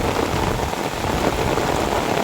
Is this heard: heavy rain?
yes